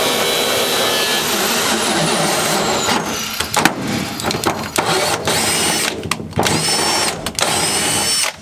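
A power drill turning a tap to cut threads for bolting a seat bracket into a Nissan S14 during a right-hand-drive conversion, a steady loud whir with brief stops and restarts toward the end.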